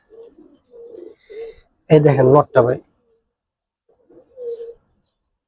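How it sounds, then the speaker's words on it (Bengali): Soft, low cooing of army pigeons repeats close by in short murmuring bursts, broken by someone speaking briefly in the middle. "একেবারে অরিজিনাল আর্মি কবুতর"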